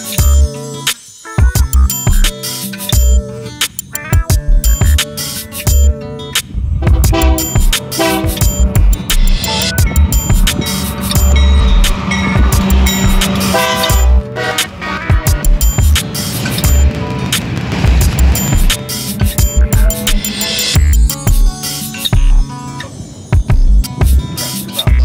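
A truck dumping a delivery of 10 tons of gravel rumbles loudly and continuously close by, with heavy low engine drone, rattling and clattering throughout.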